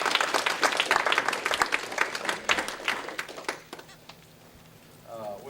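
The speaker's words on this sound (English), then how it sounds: "Let's give applause" Applause at a city board of aldermen meeting fills the first few seconds as a dense burst of many hands clapping, then fades out around the fourth second into quiet room tone with a faint voice near the end.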